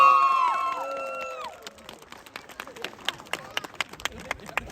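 Applause from a crowd watching a red coat soldiers show in Melbourne, Australia, a thin scattered round of clapping with a few sharp claps rising after a brief fading tonal sound at the start.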